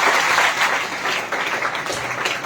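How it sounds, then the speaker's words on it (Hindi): A church congregation gives loud, sustained applause for the Lord at a Hindi-language sermon, dense clapping filling the whole moment with little talk. "आइए जोरदार ताली प्रभु के लिए बजाएं"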